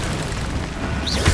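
A Bombarda blasting spell in Hogwarts Legacy goes off as a dull, booming burst that swells briefly within dense game noise and combat clutter.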